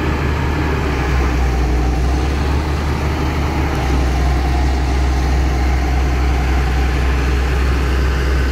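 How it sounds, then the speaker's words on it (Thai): Dump truck and excavator engines running at full power on an earthmoving job, a steady heavy low diesel rumble that holds loud and unbroken throughout, with no voices. "เครื่องยนต์เดินเครื่องเต็มกำลังครับ"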